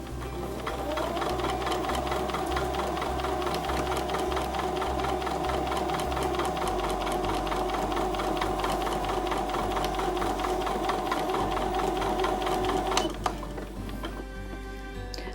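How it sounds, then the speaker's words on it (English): A sewing machine stitches along the line of a quilt block, running steadily and loud for about thirteen seconds with a rapid, even needle rhythm, then stopping abruptly near the end. "now I'm going to sew on the line that is on the right hand side until I get to the center again"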